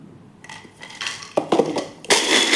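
Sharp crunching and cracking bursts as dry fruits are crushed, several uneven hits close by, growing louder toward the end.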